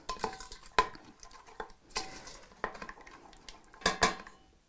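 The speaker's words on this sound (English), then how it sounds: "we'll give this a bit of a stir" A sauce of balsamic vinegar, Dijon mustard and brown sugar being stirred in a pot, with a spoon scraping and clinking against the sides in irregular bursts and a couple of sharper knocks near the end.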